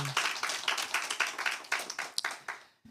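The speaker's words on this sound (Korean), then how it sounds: "서로를 위해서 우리 박수 한번 쳐드리겠습니다." A small church congregation claps in a quick, steady rhythm for about three seconds at a tenth-anniversary thanksgiving service, then the clapping tapers off and stops.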